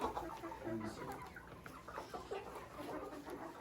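Faint clucking from a few chickens rescued from a flooded coop, soft and scattered over a low background murmur.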